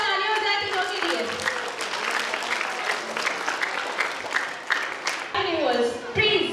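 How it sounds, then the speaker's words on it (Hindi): Loud audience applause fills a hall at a school annual function at an Urdu-medium school, a steady crowd of hands clapping with voices mixed in, dipping briefly near the end before swelling again. "जोरदार तालियां हो जाए तीनों के लिए।"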